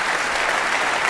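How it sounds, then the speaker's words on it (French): An audience at a French business awards evening applauds warmly, a dense, even wash of many hands clapping that fills the room without a break. "Merci d'applaudir chaleureusement"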